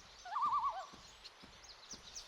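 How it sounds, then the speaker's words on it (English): A loon call from the video game Carnivores Legacy, a single wavering, quavering cry rising and falling over about half a second, moderately loud and clear above a faint airy ambient background. "Not sure why there's a loon call."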